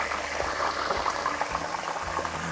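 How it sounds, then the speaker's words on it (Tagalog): Tilapia fries in hot cooking oil in a lidded pan, cooked outdoors on a farm. A steady, bubbling sizzle continues throughout. "so iprito lang natin to hanggang sa maging crispy na yung labas"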